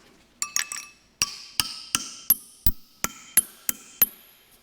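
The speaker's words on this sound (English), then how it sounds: "I'm going to try to bend them." Metal washers are struck with a hammer to bend them, a series of about a dozen sharp, ringing metallic strikes close by, quick at first and then evenly spaced, with no talk.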